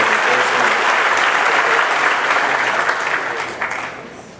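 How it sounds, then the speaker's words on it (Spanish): Sustained, dense applause from a large audience at a political forum in Medellín, steady and loud before gradually thinning out at the end. "Un aplauso."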